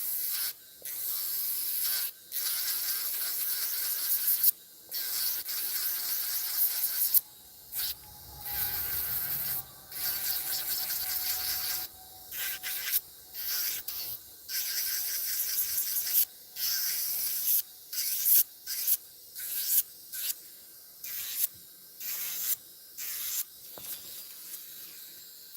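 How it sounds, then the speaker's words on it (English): A nail file works over acrylic nails in rapid, close, scratchy strokes, bursts of rasping broken by short pauses, steady and loud with no talking. "Trying to get this filing done."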